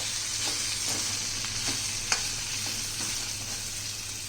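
Sprouted mung bean curry with drumsticks sizzles steadily in a pan while being stirred, a loud continuous frying hiss broken by regular scraping strokes and light clinks of the spoon, with no talking.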